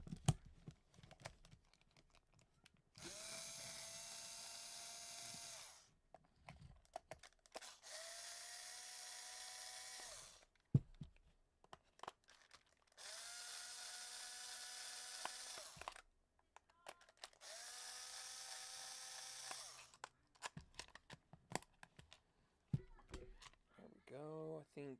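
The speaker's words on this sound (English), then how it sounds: "my drill." A power drill whirs in four steady bursts of a few seconds each, separated by pauses with clicks and handling noise, during work on a 3D printer.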